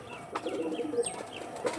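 Pigeons in a loft or market coop coo softly and repeatedly at close range, with a few chirps and faint background noise.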